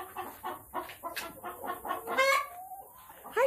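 Farm chickens clucking nearby in a rapid series of short calls, one rising squawk among them, with no talk.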